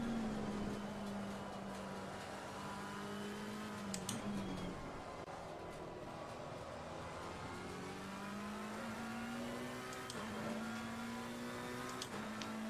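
McLaren 720S race car engine in Assetto Corsa Competizione, a steady, fairly quiet drone that shifts pitch with throttle and dips at gear changes, continuous throughout.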